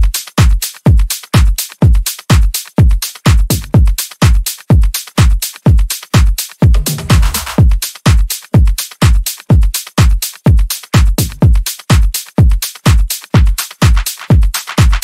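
A layered tech house drum loop built in FL Studio, with punchy kicks on a steady four-on-the-floor pulse, crisp hats and claps, loud and driving throughout with a brief filtered break near the middle.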